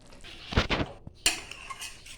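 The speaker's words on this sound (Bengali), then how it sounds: "যখন ফুটাবেন তখন এইভাবে খুন্তি দিয়ে অনবরত নাড়াতে হবে" A metal spatula scrapes and clanks against a pot of boiling mango kasundi in a few quick stirring strokes, close by, with short pauses between.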